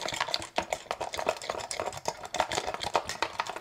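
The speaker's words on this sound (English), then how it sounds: "I know it's crazy to think, but if I shake this," A Cuba Authentic Dark fragrance bottle shaken by hand gives a quick run of close, bright rattling clicks and sloshing taps, irregular and continuous for a few seconds with no talking.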